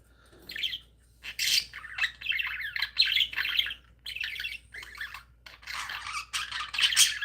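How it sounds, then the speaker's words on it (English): Pet birds with clipped wings squawk and chirp indoors in dense, overlapping bursts, harsh calls mixed with brighter tweets, fairly close and continuous with brief pauses, no talking over them. "You like the birds in the air"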